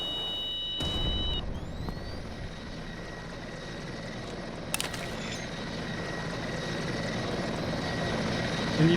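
Hind attack helicopter in a video game, a steady rotor and engine drone rumbling throughout with occasional sharper game effects layered on top, no speech.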